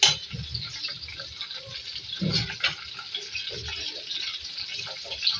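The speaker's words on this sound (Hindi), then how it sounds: "इसी ऑयल में शिमला मिर्च फ्राई करेंगे" Two medium capsicums frying in hot oil in a home kitchen, a steady hissing sizzle with small pops and bursts, fairly close.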